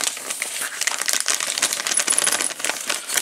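Crisp rustling and crinkling of a plastic bag as small Mercedes-Benz 300 SL Gullwing model kit parts are pulled out, a busy run of close, light scratchy handling noises with no talk.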